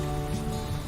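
Rain used as a sound effect in a roofing advertisement, a dense steady patter of drops on a surface, brief and even, with no voices.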